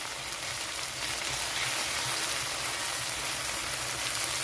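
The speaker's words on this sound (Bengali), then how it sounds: "পোস্ত বাটাটা দিয়ে দিলাম।" Poppy seed paste for nal posto goes into a hot pan and sizzles steadily, a continuous dense hiss and crackle with no talking over it.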